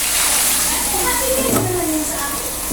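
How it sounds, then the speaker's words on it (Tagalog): Water poured into a cooking pot holding soy sauce, bay leaves, tomato paste and pork bones to make a broth; a steady, continuous splashing pour at close range for a few seconds. "Lagay tayo tubig."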